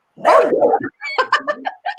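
A dog named as a future service dog gives a burst of barking and yipping over two seconds, loud and close, with short bow-wow barks in quick succession and no talking.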